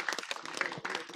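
Applause from spectators for a player at a boules match, Boule Lyonnaise finals in Monaco; a short burst of dense clapping that carries steadily through.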